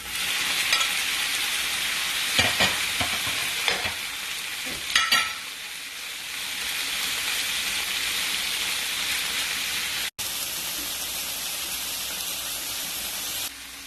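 Shrimp frying in hot oil for Vietnamese banh canh tom udon soup give off a steady loud sizzle, with a few clattering stirs of a utensil in the pan and one brief cut near the end.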